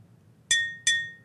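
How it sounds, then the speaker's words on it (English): Two bright, ringing glass clinks from a handheld magic sound-effect device, each a sharp strike with a sustained shimmering tone, about a third of a second apart over faint background hum. "you'll hear the clinking of a glass"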